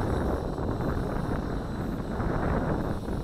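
Gusty wind buffets a microphone outdoors during a micro drone flight test, a steady broadband rumble that holds loud and constant for the whole stretch with no voices.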